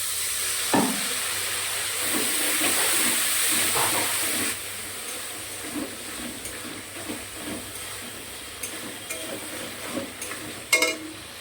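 Turmeric and chilli powder masala fries in a pan with a steady loud sizzle, which softens midway. Soft stirring scrapes tick through the second half.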